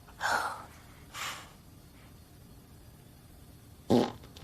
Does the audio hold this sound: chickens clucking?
no